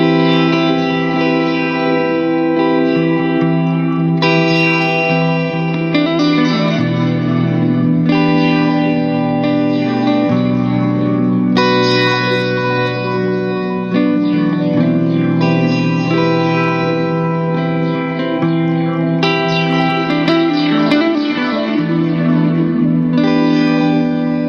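An electric guitar plays through a Boss effects pedal in sound hold mode, producing sustained, layered chords with reverb and chorus-like shimmer that run continuously at full volume.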